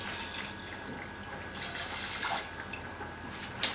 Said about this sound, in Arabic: حطوا الميه بقى